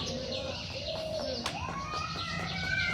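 A pet myna bird gives several thin, drawn-out whistling calls with a few chirps, fairly faint against a steady background hum.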